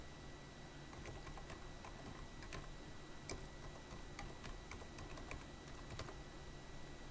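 Quiet, irregular key clicks tap away on a computer keyboard over a faint steady hiss, with no voices.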